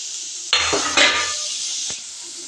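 Vegetables tossed into a pan of nearly boiled chow mein seasoned with a little vinegar give a sudden loud clatter and sizzle, followed by a second metallic scrape and stirring clinks over a steady background hiss.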